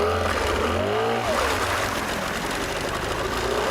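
A boat outboard motor on a fishing trip starts on one pull and is revved, its engine note rising and falling with a steady close drone throughout.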